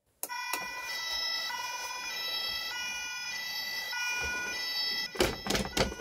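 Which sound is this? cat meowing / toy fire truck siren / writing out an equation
toy fire truck siren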